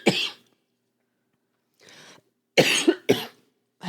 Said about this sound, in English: once you start coughing. Yeah, it's hard to stop.